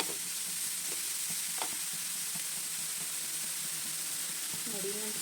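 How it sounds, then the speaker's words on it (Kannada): Grated carrots fry in ghee for carrot halwa, giving a steady soft sizzle in the pan with occasional faint scrapes of stirring, low in level and with no one talking. "ಈಗ ತುಪ್ಪದಲ್ಲೇ ಚೆನ್ನಾಗಿ ಫ್ರೈ ಮಾಡ್ಕೊಳ್ಳೋಣ"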